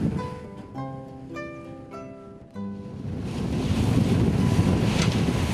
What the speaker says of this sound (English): Aboard the ferry, viewing the vastness of the St. Lawrence River.